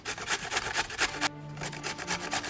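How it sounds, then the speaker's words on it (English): Raw sweet potato with its skin on is rubbed against a coarse grater in steady, close rasping strokes, with a brief pause partway through. "The way that I'm going to start is just by grating the sweet potato. Skin and everything."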